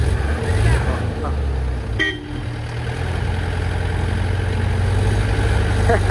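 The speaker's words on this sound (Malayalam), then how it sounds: "വണ്ടി സ്റ്റാർട്ടാക്കിയിട്ടുണ്ട്, മറ്റുള്ള 2 ആളും റെഡിയാണ്." A car engine, just started, idles with a steady low rumble throughout while a rainy outdoor scene carries a short horn toot and someone talking nearby.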